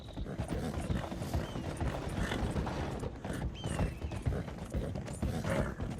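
Horse hooves clip-clop steadily in Red Dead Redemption 2, a fairly faint, continuous trotting rhythm mixed with creaking tack and ambient game noise.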